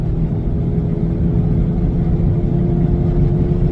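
A 2003 Pontiac Montana minivan engine drones loudly and steadily, a low rumbling hum as it pulls under acceleration, close up with no voices.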